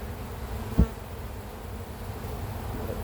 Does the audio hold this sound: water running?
no